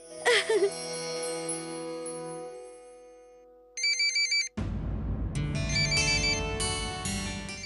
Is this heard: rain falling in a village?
no